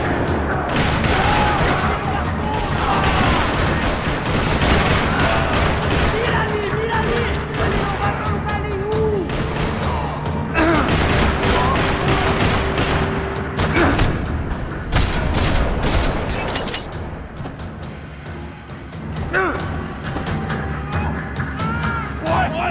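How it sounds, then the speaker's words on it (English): Gunfire rattles through a parking lot in the Max Payne 3 video game, with dense bursts of shots and booms under game voices and music, easing near the end. "Another parking lot rattling with gunfire."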